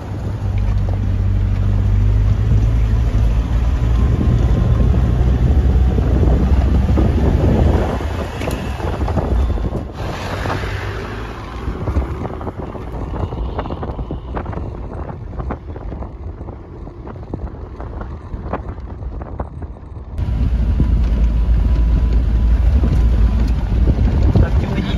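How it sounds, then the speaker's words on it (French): Strong wind sweeps across a hilltop mountain pass, roaring and buffeting the microphone with deep rumbling gusts that ease off for a stretch midway before slamming back in at full force. "il y a beaucoup trop de vent"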